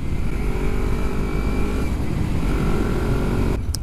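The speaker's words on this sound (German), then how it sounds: "Kurz einmal Gas geben, vom Gas runtergehen und dann kann man hoch und runter schalten." Motorcycle engine running steadily and loud, with a throttle blip and a gear shift made without the clutch.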